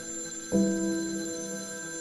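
A single bright ring with sustained tones, like an old telephone bell, starting abruptly and lingering as it slowly fades.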